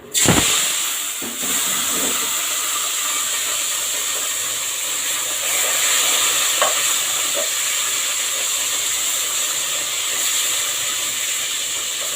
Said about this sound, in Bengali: তেলটা ভালো করে গরম হলে তারপরে এই মাছগুলি ছেড়ে দেব